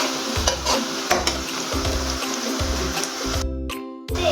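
Garlic and ginger fry for chicken biryani, giving a steady close sizzle in the pan. Stirring strokes recur in a loose rhythm, the sizzle drops out briefly near the end, and no one speaks.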